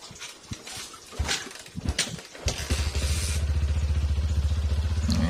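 A motorcycle engine being kick-started: a few clattering kicks, then the engine catches and settles into a close, steady, throbbing idle.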